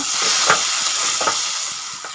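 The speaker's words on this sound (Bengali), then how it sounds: "এখন আমি জল দিয়ে দিচ্ছি।" Water poured into a hot pan of jackfruit and prawns sets off a strong hiss and bubbling sizzle, with a couple of scraping stirs, close and continuous.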